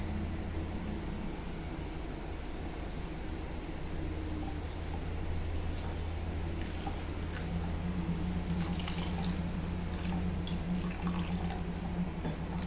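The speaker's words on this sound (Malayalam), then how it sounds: "നമുക്കിതിലേക്ക് തേങ്ങാപ്പാൽ ഒഴിച്ചു കൊടുക്കാം." Coconut milk, made from powder mixed with hot water, pours steadily into an egg masala curry in a continuous soft liquid stream, with faint splashes and drips throughout.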